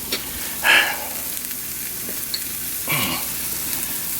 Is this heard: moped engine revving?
no